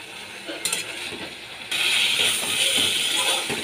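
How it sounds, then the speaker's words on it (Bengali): Pabda fish sautéing in a pan while being stirred, with a steady hiss and scraping that grows louder and denser midway through, close by with no talk. "এবার মাছগুলো কিছুক্ষণ আমি কষিয়ে নিচ্ছি।"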